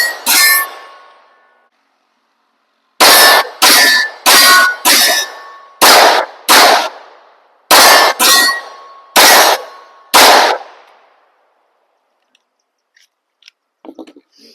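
Sharp, loud gunshots from a P80 Glock 19 pistol firing a full magazine: one report, then after a pause a rapid string of about ten evenly paced shots in two bursts, each ringing out briefly, with faint clinks afterward.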